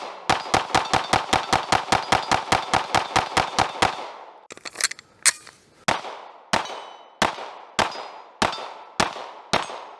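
A ported CZ P-10 C 9mm pistol fires 115 grain Blazer Brass target ammo in a rapid string of about seventeen sharp shots, then a short pause and six slower, evenly spaced shots, each loud and close with a quick ringing decay.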